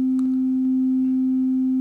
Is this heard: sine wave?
yes